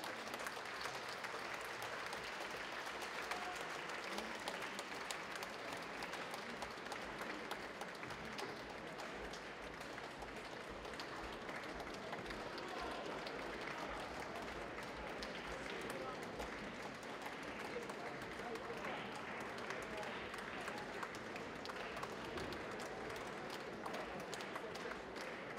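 An audience applauds a Russian-song choir of war and labour veterans at a commemorative concert: sustained, even clapping from a crowd, fairly soft and distant, continuing unbroken throughout.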